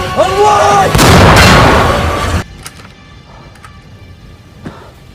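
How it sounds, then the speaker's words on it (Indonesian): Tank cannon fire in a war film aimed at the German White Tiger tank: a short shouted line, then a huge, loud boom with a long roaring blast, then quieter rumbling aftermath with a couple of faint knocks. "Ia akan menembak bagian belakang tank White Tiger"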